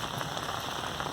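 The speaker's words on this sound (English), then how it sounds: "The rain is pretty much coming to an end, so I don't think I'm going to have a super flood." Rain falls steadily during a February flood, a dense, even patter of drops striking surfaces at close range, continuous and unbroken, with no talking.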